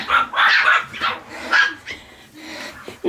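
Several Yorkshire Terriers bark and yip in quick, excited bursts close by, with whiny squeals mixed in as they squabble.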